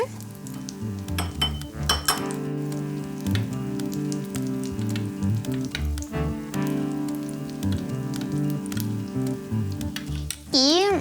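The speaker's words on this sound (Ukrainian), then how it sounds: "Тепер треба це розмішати" Food sizzles steadily in a pan while a utensil stirs it, adding scattered clinks and scrapes against the metal over a continuous frying hiss, with a warbling tone entering at the very end.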